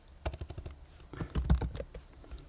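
Rapid keystrokes on a computer keyboard while entering router configuration commands, a quick run of close, crisp clicks ending with a firmer press of the Enter key, no voice.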